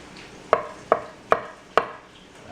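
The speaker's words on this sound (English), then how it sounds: "So start chopping it up. Slice it down that way, turn, and then just slice it again." Four evenly spaced knife strikes chopping an avocado on a cutting board, crisp close knocks with short pauses between them and no talking.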